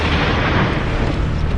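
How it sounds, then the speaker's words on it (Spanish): A test blast of an ancient-style bomb tearing through a mound of earth, heard as a loud, dense, roaring rumble that fills the whole short stretch with no pause or other sound. "Ha sido una explosión muy grande"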